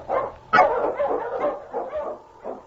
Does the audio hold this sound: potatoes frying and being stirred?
no